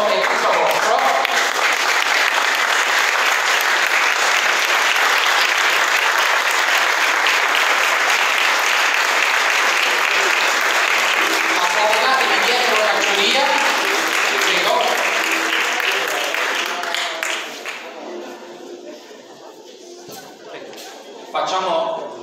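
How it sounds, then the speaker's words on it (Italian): Loud, sustained audience applause for the participants at a 2022 debate contest event held in a castle hall, dense crowd clapping that runs on for a long stretch, then thins out toward the end as voices begin talking. "Prego ragazzi, l'applauso è tutto vostro."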